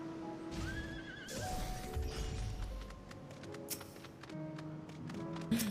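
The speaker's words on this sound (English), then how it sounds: "Oh, you have a winged horsey." In Final Fantasy XI, a winged horse gives a whinnying neigh amid game effects, with chimes, taps and short crashing sounds layered over a busy background.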